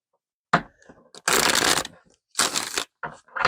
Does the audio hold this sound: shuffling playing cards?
yes